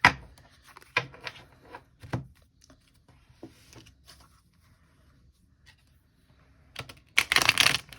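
A tarot card deck being shuffled by hand, a few sparse soft taps and riffles spread apart, ending in a denser burst of rustling cards near the close, fairly quiet and with no speech.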